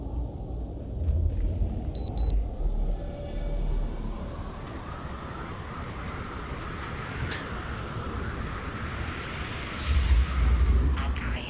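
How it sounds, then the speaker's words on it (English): A storm rumbles in The Solus Project, a survival game on an alien planet where tornadoes strike. It is a steady, broad roaring wash that swells slightly at the start and end, with no voices over it. "Let the storm come, let the storm go."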